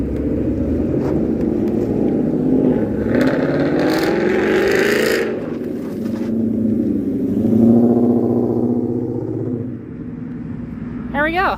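Ford Mustang S197 accelerating hard during a club cruise, a loud rising and falling engine roar with rumble, heard from nearby over road noise.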